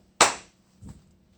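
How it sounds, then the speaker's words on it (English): One sharp hand clap rings out close and loud in a quiet room, decaying quickly, followed by a faint softer knock a moment later. "Can you clap once in front of your face?"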